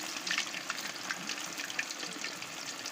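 Food going into hot oil to fry, a soft steady sizzle with brief hissing flare-ups, fairly faint and close, with no talk.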